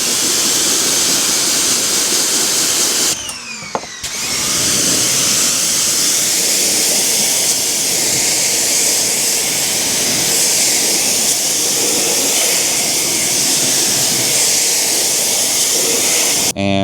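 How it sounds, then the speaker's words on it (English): A pressure washer sprays a loud, steady rinse over the wheels and tires of a Mercedes S63 AMG, with a continuous close hiss that breaks off for about a second partway through before resuming. "And then just give a really thorough rinse."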